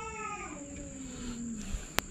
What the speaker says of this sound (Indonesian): ada kucing gaduh kat situ